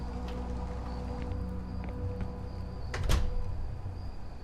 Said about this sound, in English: Well, that wasn't the right door sound.